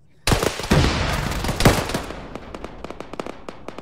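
Gunfire in the Arma military game during a ShackTac session: a sharp burst of several loud close shots with ringing tails, followed by a run of quieter distant rapid reports, with no talking.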